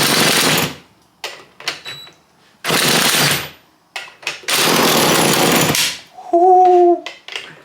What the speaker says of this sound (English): We're gonna try the old drill start method here.